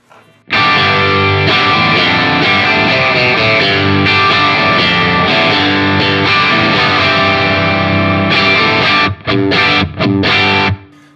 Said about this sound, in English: just a really nice, full, natural sounding overdrive.